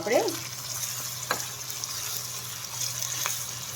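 Eggplant bharta stirred in a pan with turmeric and salt over medium heat, a steady soft sizzle with occasional scraping strokes close by, no talking.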